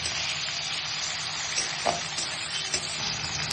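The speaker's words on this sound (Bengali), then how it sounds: "গ্যাসের ওভেনটা ফুল ফ্লেমে রেখে ক্যাপসিকামটা হালকা করে ভেজে নেবে।" Capsicum frying lightly in a pan over a gas stove on full flame, giving a steady close sizzle with faint stirring clicks and no talking.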